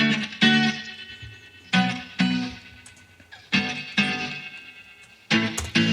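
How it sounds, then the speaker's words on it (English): Clean electric guitar strums with chorus-like shimmer, a handful of separate chords spaced out and left to ring and fade, fairly quiet. "The guitar sounds like this."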